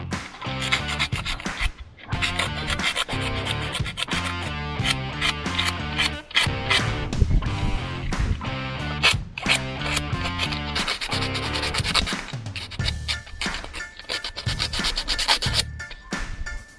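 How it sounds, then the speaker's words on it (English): Sandpaper scrubs back and forth over an oxidized John Deere alternator part, a dense run of quick rasping strokes, close and fairly loud, continuing steadily with brief pauses. "So here is a bit of a sandpaper, just"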